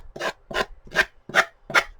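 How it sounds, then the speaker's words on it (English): A piece of fine sandpaper rubs across a thin book spine in five short, even strokes, each a close, dry scratchy swipe separated by brief pauses. "I'm just going to use a piece of sandpaper and just make that nice and smooth"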